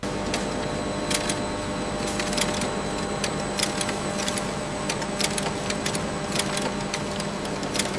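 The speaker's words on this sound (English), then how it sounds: "As the camera tracks the forming stage, the dandy roll embeds the watermark into the fibers." A paper machine's dandy roll forms watermarked banknote paper inside a Swedish money factory, giving a steady, dense mechanical drone with continuous whirring and regular sharp clicking ticks throughout, loud and close, with no voices.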